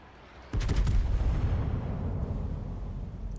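Naval gunfire from a French battleship Jean Bart in the game World of Warships, a single heavy salvo that erupts suddenly after a quiet moment and then rolls on as a deep, loud, sustained rumble.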